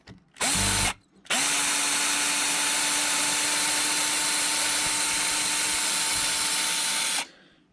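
A power drill whirs while working on parts of an Arrma Fireteam RC car: a short burst, a brief pause, then one long steady high-pitched run of about six seconds, close and loud, before spinning down.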